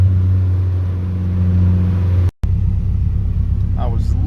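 Turbocharged LS-swapped VTEC Honda EG hatchback accelerating under boost, heard from inside as a loud, steady engine drone with a strong low hum, then a brief cut and a rougher rumble with faint voices near the end.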